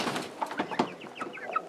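Turkeys and chickens in a farmyard, giving short clucks and soft gobbling calls in a quick irregular series, close and fairly quiet.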